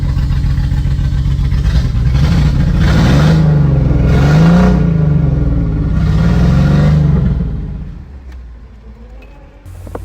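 A Jeep Cherokee XJ engine, in a truck with a slipping transmission, is revved: a loud, close engine note rises and falls through several revs, then settles toward a lower idle near the end.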